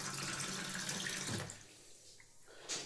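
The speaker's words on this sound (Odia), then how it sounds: "ମୋ କେଟିଲ୍ ଅଛି, କେଟିଲ୍ର ପାଣି ଭରିଦେଲି।" Tap water running into a kettle, a close splashing gush that cuts off partway through, leaving a quiet room with a faint drip and a small clunk.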